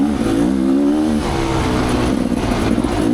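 Rieju Ranger off-road motorcycle engine revving up and holding a loud, steady drone up close on a wooded trail, pitch climbing briefly before settling, with no talk over it.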